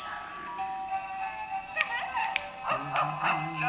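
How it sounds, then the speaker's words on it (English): Toy dog barking in short electronic yips and rattles, several quick bursts at close range over a quiet room with faint voices. "Even, look, he barks."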